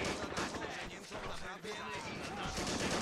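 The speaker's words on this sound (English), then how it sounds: "let's see if our AT gun has the ability to fire HE rounds" An anti-tank gun fires high-explosive rounds during a 1939 Poland defense mission in the WWII game Men of War, sharp booming shots mixed into dense battle noise under continuous talking.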